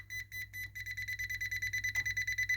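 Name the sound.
Klein voltage tester beeping near live cable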